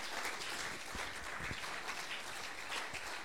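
A church congregation at a Metro Church prayer service in the DR Congo applauding and cheering in praise, a steady wash of clapping and crowd noise, heard faintly from a distance.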